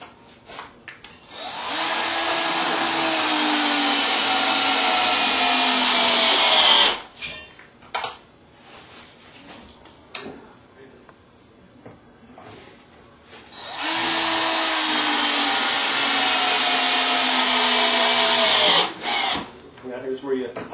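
A power tool drives screws to fasten a stair lift rail down to the floor in two long, loud whirring runs, each ending in a short burst. Quieter handling noises and some talk fill the gaps between runs.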